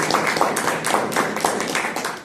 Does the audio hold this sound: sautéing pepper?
no